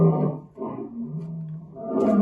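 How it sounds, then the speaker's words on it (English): A lion gives a deep, rumbling roar in two throaty pulses, the second rising louder at the end, close and fairly loud with no other sounds. "Well done! It's a lion."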